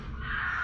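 A single harsh, rasping screech from an owl at night, short and fairly faint, with no voices.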